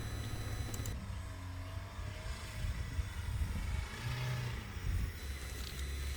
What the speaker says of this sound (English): if you listen to the engine revs here while my son's driving, you can hear it's a bit erratic.